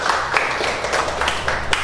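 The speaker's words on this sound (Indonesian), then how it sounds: "Ya, tepuk tangan dulu untuk kita semua" A classroom group claps together in quick, fairly steady bursts, the applause close and sustained for a short moment.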